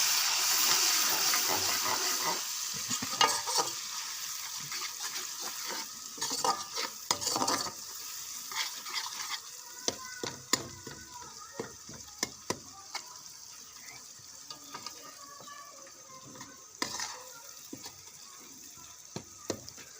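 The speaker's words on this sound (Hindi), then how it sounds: "अब मैं थोड़ा सा पानी ऐड करने लगी हूँ ताकि जो फ्राइड के हल्का हल्का मसाला जो है ये सारा इसमें मिक्स हो जाए" Water meets hot fried masala in a pan for fish curry, giving a loud steady sizzle and hiss that slowly fades, with a spoon scraping and stirring in irregular clicks throughout.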